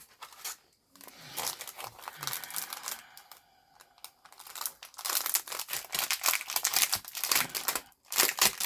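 A package of 1/8 inch score tape is torn open for a paper craft project, giving bursts of crinkling and crumpling plastic and paper, close and fairly loud, with short pauses between handling sounds.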